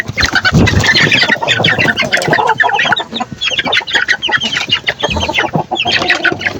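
Caged chickens cluck and squawk loudly and close by, a busy overlapping chorus of agitated calls that keeps going without a pause and has no talking over it.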